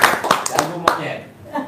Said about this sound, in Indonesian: Tepuk tangan dulu dong buat Haji Marco.